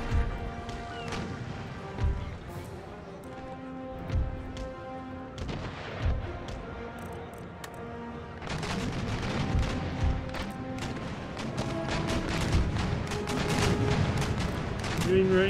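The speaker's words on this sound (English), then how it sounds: "Fire broadside." Ship cannon broadside fire in the naval battle game Empire Total War, with scattered booms early and then a dense rolling volley of overlapping blasts and crashes, heard under in-game background and voices.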